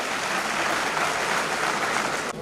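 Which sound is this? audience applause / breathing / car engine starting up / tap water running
audience applause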